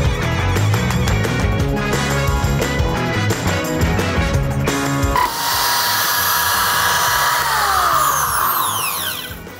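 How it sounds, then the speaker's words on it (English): A reciprocating saw buzzes loudly and steadily as it cuts into the soundbar area of a Jeep Wrangler, then the tone changes to a whining, squealing cut that fades near the end. "So now I'm gonna take my reciprocating saw, which is here,"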